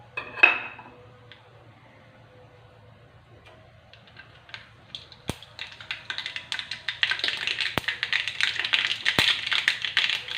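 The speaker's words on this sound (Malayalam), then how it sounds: "കടുകിട്ടൊന്ന് പൊട്ടട്ടെ." Mustard seeds splutter in hot oil while cooking an egg curry, starting with a clink of utensils, then building into a rapid crackling and popping that grows denser and louder, with a few sharp snaps.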